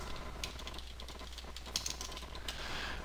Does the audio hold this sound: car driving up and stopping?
no